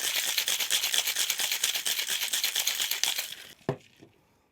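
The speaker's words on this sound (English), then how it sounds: "Let's get in with some ice. Cracked ice. And we'll give that a shake." Daiquiri with rum and lime shaken over cracked ice in a cocktail shaker: loud, rapid rhythmic rattling of ice for about three and a half seconds, ending in a sharp clunk and brief settling.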